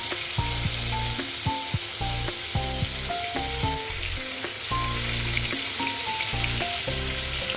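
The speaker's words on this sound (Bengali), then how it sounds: "কাজটা হচ্ছে হালকা ফ্রাই করে নেওয়া।" Grilled butter chicken pieces frying lightly in a pan make a steady, close sizzle, with a melodic musical backing running underneath throughout.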